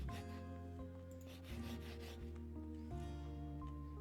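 A lottery ticket being scratched in the video game Little Misfortune, steady rubbing scrapes over sustained background music chords, quiet and continuous.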